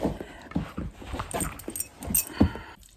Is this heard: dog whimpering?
yes